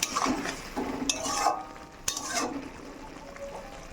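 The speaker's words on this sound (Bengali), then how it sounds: "জিরে বাটা দিয়ে একটু নাড়াচাড়া করে দেবো" Small fish and potatoes coated in cumin paste being stirred in a wok, with a few scraping strokes and light clinks of the utensil against the pan over a faint sizzle, close and moderately quiet.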